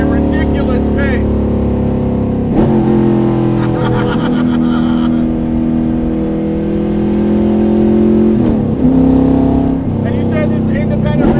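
A 600 hp 1972 Corvette autocrosser revs hard and accelerates, its engine note rising in steady sustained pulls with brief breaks between gear changes, loud and close throughout.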